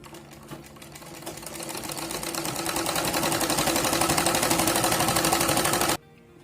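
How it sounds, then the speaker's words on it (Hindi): Sewing machine running steadily while stitching salwar panels, a continuous rapid needle whir that builds in loudness and then stops abruptly near the end, with no talking. "चलिए सिलाई लगा लेते हैं इसको"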